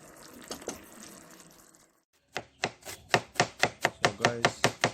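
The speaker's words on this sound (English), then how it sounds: "I'm gonna shred some vegetable. So I'm using some sweet pepper, cabbage, tomato, cucumber" Knife chopping sweet pepper, cabbage, tomato and cucumber on a board, a steady run of about a dozen close, sharp chops after a brief quiet pause, with softer kitchen noise before.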